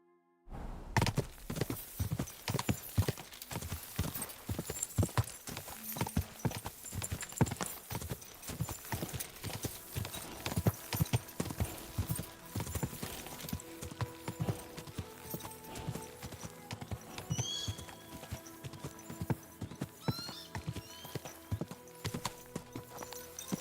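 Horse hooves clip-clop steadily in a medieval camp in Kingdom Come: Deliverance 2, a continuous walking rhythm of close, moderately loud hoofbeats with faint background ambience.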